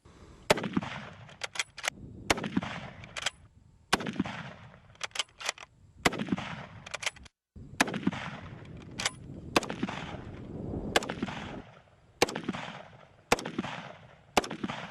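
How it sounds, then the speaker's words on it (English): Rifle fire at a target from a Vietnam-era M16 and a World War I-era 1903 Springfield: sharp, loud gunshots spread irregularly through the scene, each followed by a rolling echo. "The weapons that Aaron and I have are the Vietnam era M16, and I have the World War I era 1903 Springfield"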